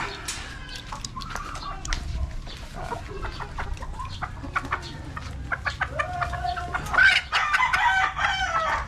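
Several breeding hens cluck and chatter close by, with a rooster-like call and busy, overlapping bird sounds throughout.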